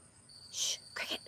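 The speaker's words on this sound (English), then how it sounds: "That's a cricket." A cricket chirps outdoors at dusk, a steady high trill with a couple of louder, nearer bursts over quiet background noise.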